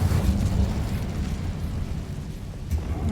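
Incendio fire spell cast in the video game Hogwarts Legacy: a steady, roaring rumble of flame and burst-like energy that fills about three seconds with no talking.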